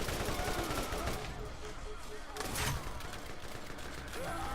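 Rapid automatic weapon fire from the Borderlands shooter game, a dense continuous stream of gunshots and effects filling the whole stretch at moderate level, with a voice speaking over the action.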